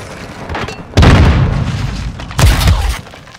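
Two heavy booms from a claymore in Modern Warfare II Team Deathmatch on the El Asilo map, the first near one second and a second around two and a half seconds, each loud and deep with a rumbling tail over faint game ambience.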